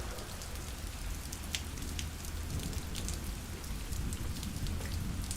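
Steady rain pours onto a roof, a dense continuous patter with scattered louder drops, even and unbroken throughout with no voices.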